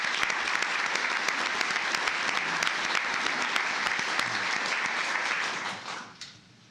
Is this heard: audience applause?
yes